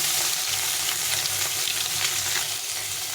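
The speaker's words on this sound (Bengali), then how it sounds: "মাছগুলো ভাজা হয়ে গেছে" Fish frying in a well-heated kadai for a shol fish jhal gives a loud, steady sizzle and crackle that holds evenly throughout, close up, with no talking.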